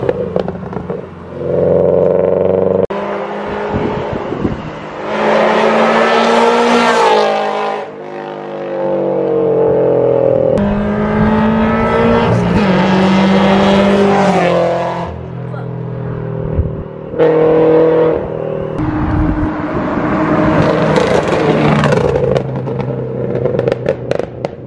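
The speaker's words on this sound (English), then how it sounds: "I want to go out for a little drive and show you guys this car rolling a little bit." A widebody Subaru BRZ drives by with loud, sustained engine noise that rises and falls through revs over roughly twenty-five seconds, with some crackle and a voice faintly present.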